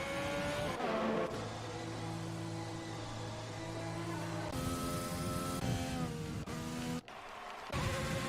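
A Formula 1 race car in a racing video game at the United States Grand Prix sustains a loud, steady high-pitched engine whine through a timed lap, shifting pitch through gear changes and braking with a brief dip near the end.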